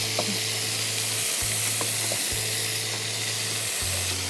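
Ginger paste sizzles steadily in a hot pan while a spoon stirs it, with a continuous close frying hiss and light scraping, and no voices.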